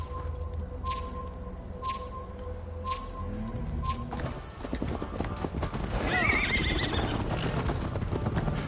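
Horse neighing and hooves clip-clopping in a video game, with a long whinny at the start and steady hoof beats that grow louder and denser, mixed with faint game ambience.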